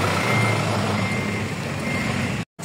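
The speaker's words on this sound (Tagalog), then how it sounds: "sundan na lang natin tong truck na to" A truck backing up with its reversing alarm, heard over a loud, steady engine rumble and broad road noise that cut off abruptly near the end.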